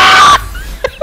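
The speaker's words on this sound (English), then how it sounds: "A fucking chicken." A chicken gives two short, close clucks after a loud burst of other noise cuts off.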